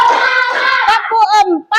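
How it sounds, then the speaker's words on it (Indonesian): A class of children in an Indonesian classroom does a tepuk clapping routine, chanting loudly together while a few sharp, spaced hand claps cut through their voices. "kita kasih dulu tepuk-tepuknya"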